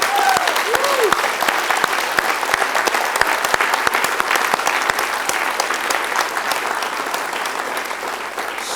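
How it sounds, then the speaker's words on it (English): An audience at an alumni reception applauds students, dense continuous clapping from a sizable crowd in an indoor hall, loud and sustained before gradually thinning. "Let's have some applause."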